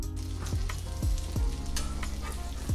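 Soft tacos sizzle meat side down in a hot pan, a steady loud crackle and spit of frying with a few sharper pops along the way, close up and without talk.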